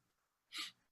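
A single quick sneeze, brief and soft, bursts out of near silence during a video-call interview.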